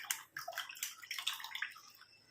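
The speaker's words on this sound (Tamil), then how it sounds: "இப்போ நம்ம இந்த இரும்பு கடாயை நல்லா வாஷ் பண்ணிக்கலாம். தண்ணி ஊற்றி அலம்பிட்டு" Water splashing and swirling in an iron kadai as it is rinsed, with irregular sloshes and drips close by, moderately loud and without talk.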